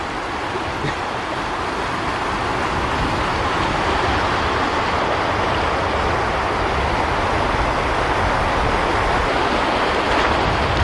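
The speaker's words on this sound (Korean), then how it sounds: "여기 웅장한 골짜기를 더욱 특별하게 만드는 개울이 하나 있습니다" Water of a stream running through a valley near an oasis village in Morocco, heard as a steady, full rushing wash that stays loud and unbroken from start to finish, with no voices.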